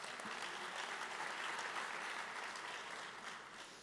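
A crowd at a school district Teacher of the Year ceremony claps for event sponsors, a quiet, distant, continuous patter of many hands that stays even for a few seconds before thinning out at the close.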